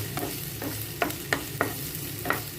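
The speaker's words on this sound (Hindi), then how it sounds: "ट्रांसलूसेंट होने तक प्याज को पकाएंगे।" Chopped onions fry in a pan on the way to turning translucent, a close, continuous sizzle broken by four or five sharp scraping clicks of a spoon stirring against the pan.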